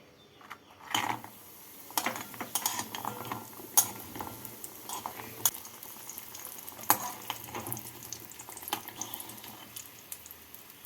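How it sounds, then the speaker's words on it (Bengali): Dal bori fry in hot mustard oil in a kadai, an ongoing crackle and sizzle broken by frequent sharp clicks and clatters of a spoon against the pan. "এই তেলের মধ্যে প্রথমে আমি ডালের বড়িগুলোকে ভেজে তুলে নেব"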